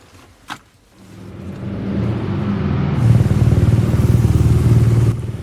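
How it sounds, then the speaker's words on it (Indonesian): A motorcycle arrives, its engine rumbling up from near silence after a brief knock, then holding a loud, steady idle with rhythmic pulsing close by before easing slightly at the end. "tibalah Kamil dengan motor kesukaannya"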